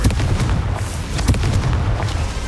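Confringo fire spell explosions in Hogwarts Legacy, a dense run of heavy booms and bursts rolling one after another, loud and close with no pause.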